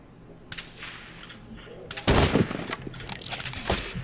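Gunfire in the video game Rust during a player-versus-player deathmatch: a few isolated shots early, then a dense, loud burst of rapid automatic fire from about halfway on, with a person talking underneath.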